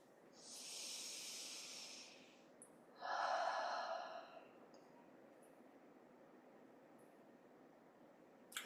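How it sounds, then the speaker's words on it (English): Slow, deep breaths during a morning yoga practice: a long soft exhale-like hiss, a brief pause, then a second fuller breath, close and quiet, with no talking. "Take a couple breaths."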